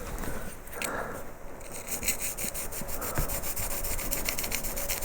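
Small carving gouge making a test cut on a piece of wood, a close, continuous scraping and rasping with short repeated strokes, no talk.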